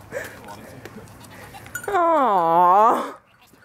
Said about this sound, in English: Hey, baby goat.